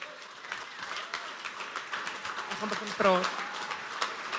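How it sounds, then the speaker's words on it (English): A conference audience applauds as a speaker is welcomed to the stage, moderate, steady clapping with some cheering, and a voice briefly speaks over it near the end. "Please give Lizna a round of applause"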